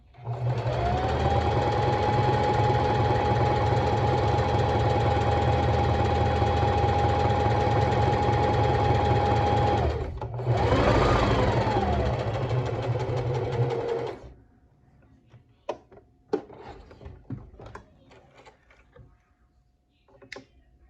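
A sewing machine stitches a row of shirring on fabric, running steadily and loud for about ten seconds, pausing briefly, then a short second burst before stopping, followed by quiet handling clicks and rustles.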